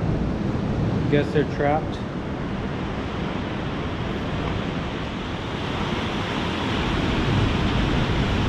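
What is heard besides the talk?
ocean waves and surf at Laguna Beach, 1000 Steps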